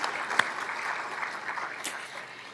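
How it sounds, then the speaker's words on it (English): Audience applauding at a public and allied health symposium keynote, a brief moderate burst of clapping at middle distance that fades out after a couple of seconds. "A round of applause for all of the work you do."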